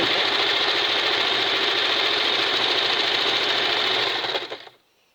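A Kenmore 1551200 straight stitch and zig zag sewing machine running steadily, a loud close whirring rattle of rapid stitching that holds for about four seconds before winding down and stopping.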